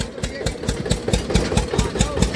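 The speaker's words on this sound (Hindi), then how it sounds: "चल पड़ा है हमारा 6 कुंटल भूसा लेकर, ठक ठक ठक ठक ठक ठक।" Vehicle engine hauling a load of 6 quintals of fodder, chugging in a steady, fast rhythmic thump of evenly spaced beats, close and fairly loud throughout.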